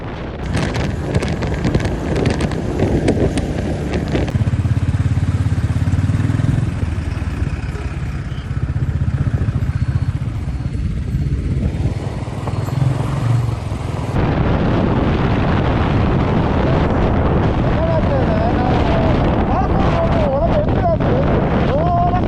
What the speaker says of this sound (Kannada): ಗಾಳಿ ಹೊಡೆಯೋ ಸೌಂಡಿಗೆ ಏನು ಕೇಳಿಸ್ತಾ ಇಲ್ಲ